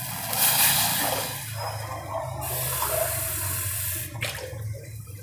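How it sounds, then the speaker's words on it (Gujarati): Water pours in a steady, splashing stream into a pot, pauses briefly, then pours again, close and fairly loud. "હવે એમાં આપણે ત્રણ ગ્લાસ પાણી નાખીશું"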